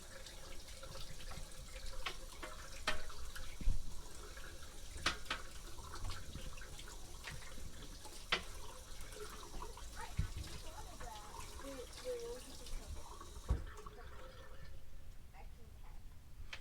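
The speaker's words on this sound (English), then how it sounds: "I'm going to go ahead and just rinse off my spoon and stir it up with that." Tap water runs steadily into a sink while a spoon is rinsed during mead making, a continuous splashing hiss with light clinks, moderately faint, with a person speaking over parts of it.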